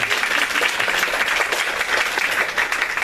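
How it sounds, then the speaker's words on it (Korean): Applause from a church congregation at a Sunday worship service: dense, even clapping from a large crowd, sustained and fairly loud across the whole stretch. "우리 작가님 경배하는 마음으로 박수 한번 주셨습니다."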